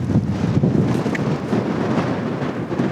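Cold, strong wind buffets the microphone on a mountain trail near Shumard Peak in the Guadalupe Mountains, a steady low roar with gusty rumbling throughout and no voices.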